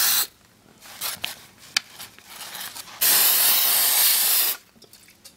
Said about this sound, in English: I want you to get some hairspray out and spray your bow.